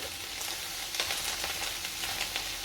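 Oyster mushrooms fry in a pan with a constant, fairly quiet sizzle and crackle that runs evenly with no talk over it.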